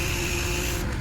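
Steady close hiss of an X-Jet power washer spraying chemical onto house siding at low pressure, a broad continuous wash of noise that thins out near the end.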